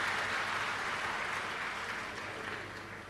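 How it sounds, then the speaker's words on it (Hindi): Audience applause at a Hindu religious discourse, a Shiv Mahapuran katha, welcoming the host family: dense, steady clapping from a large crowd that fills the whole stretch and eases off slightly toward the end, with no voices over it. "एक बार यजमान परिवार के लिए जोरदार ताली बजाकर सभी का स्वागत"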